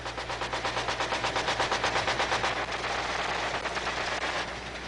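Sustained rapid machine-gun fire from a helicopter gunship, a dense, loud stream of bursts rattling on without pause over a steady low rotor drone.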